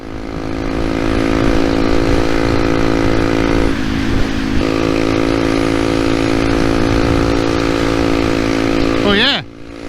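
A Honda Monkey motorcycle runs on E10 fuel that sat in its tank since November, its engine holding a steady, loud near idle-like drone with harmonic tones, then falling away near the end.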